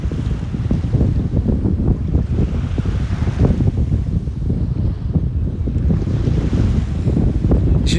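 Strong wind buffets the microphone at a beach in Okinawa, a constant loud roar layered with the wash of breaking waves and no pauses throughout.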